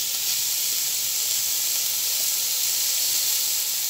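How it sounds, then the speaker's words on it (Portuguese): Beef sizzles in hot oil in a pan, a loud, steady hiss that stays constant with no pauses. "coloca um pouquinho de óleo aqui pra tá fritando essa carninha"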